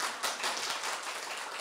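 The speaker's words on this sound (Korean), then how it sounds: "동의하시면 박수를 한번 쳐보세요." An audience in a lecture hall claps together in a brief burst of dense, even applause at moderate distance, with no voices over it.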